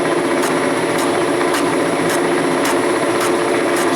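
A valve seat cutting machine grinds into a cylinder head chamber on a competition racing valve job, a continuous harsh whirring with a steady rhythmic pulse about twice per second, close and loud.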